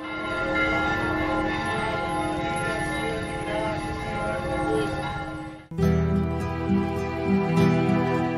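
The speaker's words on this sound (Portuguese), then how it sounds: "E na festividade o sino também repica de uma forma muito bonita" A church bell rings out at a Saint Anne festival with steady, resonant tones, loud and close, its strokes overlapping into a continuous clangor.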